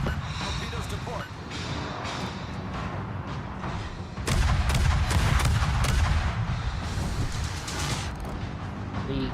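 Rapid bursts of gunfire in a shooting game, dense and loud, swelling heavier midway through with continuous thumping and crackling while a voice talks over it.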